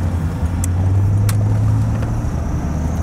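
A 1993 Chevy Van G20 Starcraft engine running, a steady close low hum and rumble, heard from inside the van with no talk.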